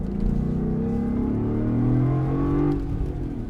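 Land Rover Defender V8 Carpathian Edition engine pulling steadily while driving, a loud continuous rising drone with clear harmonics that swells and then eases off near the end, with no talking.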